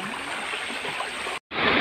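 A small waterfall in a clear jungle stream rushes in a steady, close wash of water, briefly cut to silence near the end before the rushing resumes.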